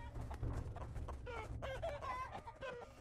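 Chickens in Totally Accurate Battle Simulator, a busy flurry of clucking and squawking with a rooster-like crow mixed in, fairly close and dense over a low rumbling battle background.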